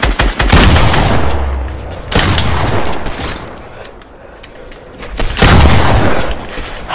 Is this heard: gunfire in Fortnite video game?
yes